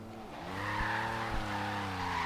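A Camaro in the racing game Tamo Racemo slides through a corner, with a steady, tonal tire squeal under a droning engine, loud and close for about two seconds.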